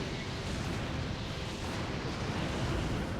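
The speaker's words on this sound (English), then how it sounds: "We can just hold R to do many, many lava bombs." Lava bombs explode continuously in the video game Age of Calamity, a dense, roaring rumble of overlapping blasts that holds steady and loud throughout with no clear gaps.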